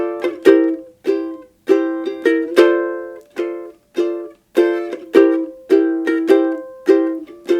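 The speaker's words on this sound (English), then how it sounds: "So 2 quick down strums to create the same rhythm." Bright ukulele strums ringing out alone, with quick pairs of down strums mixed with single strokes in a steady, bouncy rhythm.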